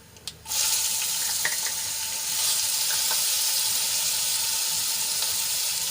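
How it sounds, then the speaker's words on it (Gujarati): Chili and garlic paste hits hot oil and breaks into a loud, steady sizzle that starts abruptly and keeps hissing close by without pause. "મરચાં અને લસણની પેસ્ટને આપણે થોડીક સાંતળી લઈશું।"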